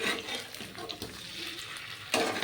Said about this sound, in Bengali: দুই পিঠটাকে একদম লো ফ্লেমে ভালো করে ভাজতে হবে